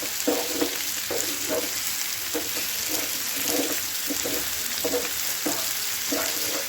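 Potato bhurji stirred with salt in a nonstick pan, a soft continuous sizzle with rhythmic scraping strokes of the spoon repeating every second or so.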